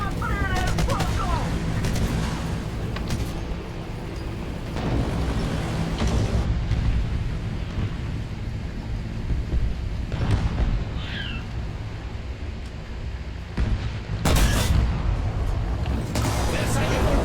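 Artillery fire and gunfire in the video game War Thunder, with repeated heavy booming blasts and bursts of shooting that come and go across the scene, mixed with constant background battle noise and voices speaking.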